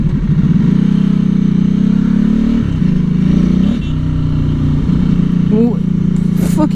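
A Ducati motorcycle ridden in traffic, its engine droning steadily and loudly close by with a shift in pitch partway through and a brief rising rev near the end; a voice talks over the engine at times.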